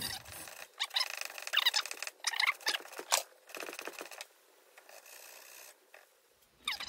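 A brush scrubs gunk off a two-stroke engine part in short, bristly rasping strokes, a few at a time with pauses between, close up and fairly quiet.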